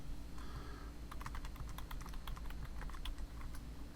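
Typing on a computer keyboard to enter a slot car racetrack name in lap counter software, with a quick irregular run of close, crisp key clicks.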